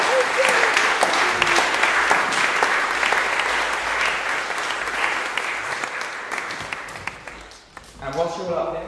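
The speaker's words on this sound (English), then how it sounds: "Shall we give them a big round of applause?" A church congregation at a Sunday service applauds steadily for several seconds, clapping gradually fading as a voice begins speaking at the end.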